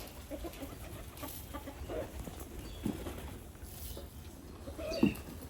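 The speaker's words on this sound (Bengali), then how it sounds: "বড় বড় মোরগ আছে" Faint, scattered clucks from large roosters nearby, a few short sharp calls over a low background hiss, with one louder cluck near the end.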